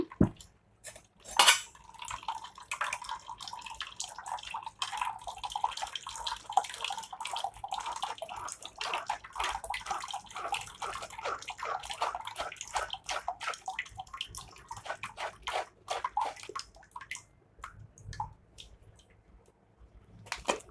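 Watermelon juice trickles and drips through a strainer amid scattered clinks of utensils against dishes, fairly quiet and close by.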